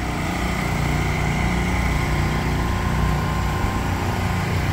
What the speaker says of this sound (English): All you can hear is gasoline generators.